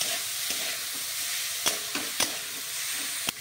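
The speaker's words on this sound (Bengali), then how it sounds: "চিড়েটা আমি কড়াইয়ের মধ্যে দিয়ে দিচ্ছি, দিয়ে একটু আমি নাড়িয়ে নেব" Soaked flattened rice (chira) is stirred in ghee with cardamom in a wok, a steady sizzle broken by several sharp scraping clacks of the spatula against the metal.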